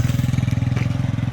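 A brief stretch of a 1975 Honda XL350K1 motorcycle's engine running at idle: a quick, even low-pitched thrum of exhaust pulses, close and steady, with no voices.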